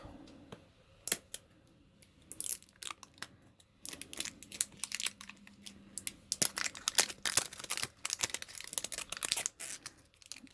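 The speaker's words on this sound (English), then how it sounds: "So you gotta rip the whole thing off" Plastic wrap is torn off a G Fuel container in a series of sharp crinkling rips and crackles, irregular bursts close to the microphone with short pauses between them.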